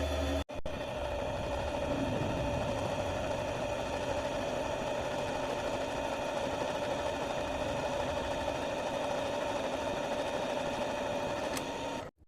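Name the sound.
lathe truing up an alternator slip ring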